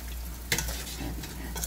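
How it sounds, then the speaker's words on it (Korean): Spoon stirring eggplant mashed with plenty of garlic, a few brief scraping clinks near the mic over a low steady background, alone without talk. "숟가락으로 휘휘 젖어."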